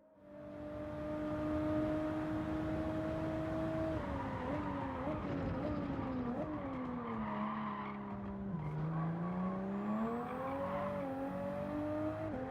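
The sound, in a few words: race car driving with tire squeal in Gran Turismo 7 video game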